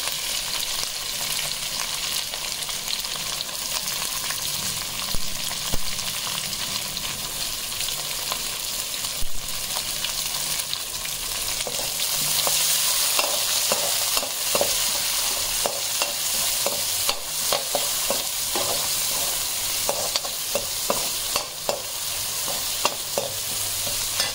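Onion frying with a little salt in a pan, a steady close sizzle with repeated scraping stir strokes of a spoon throughout, no talk.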